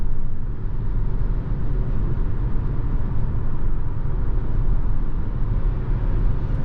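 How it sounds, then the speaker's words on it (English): Muffled passing cars outside a 2023 Toyota Crown Limited cabin at speed, a steady low rumble of road and traffic noise, fairly quiet and even throughout with nothing standing out. "Can hear some cars outside."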